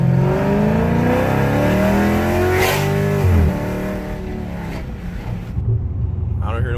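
A car with its nitrous kit removed drives along after a grinding fault was repaired, engine pulling loudly and rising in pitch, then easing off into a lower cruising drone with road noise.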